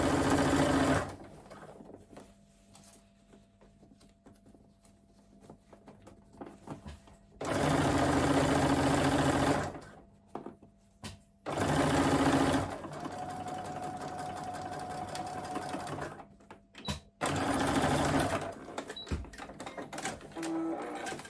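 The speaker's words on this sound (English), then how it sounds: "So I've sewn all the way along the top." A sewing machine stitches the top seam of a crossbody bag where an adjustable strap is attached. It runs in three close, steady bursts separated by quiet pauses.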